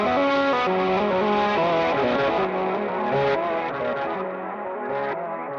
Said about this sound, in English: And then here's my reverse delay